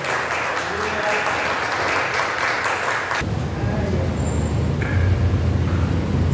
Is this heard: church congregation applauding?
yes